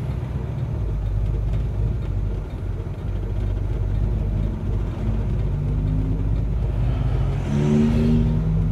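A 1969 Camaro Yenko recreation with a six-cylinder engine idles with a steady low rumble, then the engine is revved toward the end, its pitch climbing in rising sweeps, heard close and loud with no talking.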